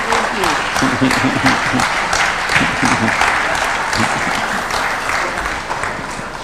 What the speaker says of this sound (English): Let's give a warm clap for that.